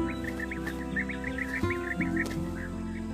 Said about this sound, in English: Bee eaters.